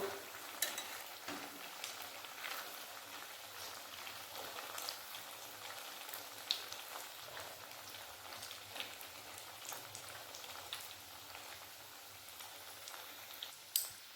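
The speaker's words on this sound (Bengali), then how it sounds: "এবারে গ্যাসটা কমিয়ে আস্তে আস্তে ভেজে নেব" Semolina pitha cakes fry gently in oil over low heat, giving a soft, steady crackle and sizzle with scattered pops throughout, fairly faint and close.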